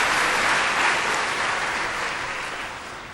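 An audience at a satsang in Ludhiana claps together in a dense, steady burst of applause that fades slightly toward the end, with no one speaking.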